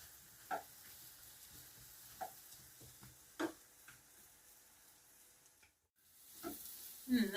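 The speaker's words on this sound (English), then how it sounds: "So I've put some butter in the pan, and now I'm going to fry those mushrooms off." Mushrooms frying in butter in a pan give a faint, quiet sizzle, broken by a few scattered clicks and utensil taps, with a louder scrape or stir near the end.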